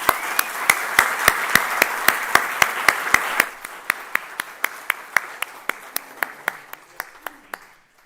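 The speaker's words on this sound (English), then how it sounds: "a big round of applause and their welcome." A church congregation applauds to welcome new members. Steady, rhythmic clapping is fairly dense at first, then thins to a few spaced claps that fade out, with no talking.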